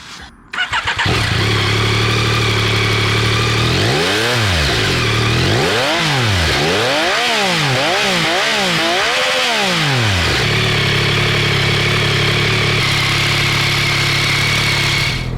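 A Yamaha Tracer 9 GT sport touring motorcycle engine starts and idles, then is revved repeatedly in rising and falling surges before settling back to a steady, close idle.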